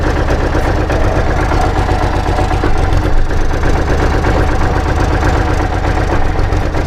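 A 2011 Kubota L3608DT tractor's 36-horsepower direct-injection diesel engine idles close by, giving a steady, rough, knocking rumble that keeps an even level throughout, with no voices.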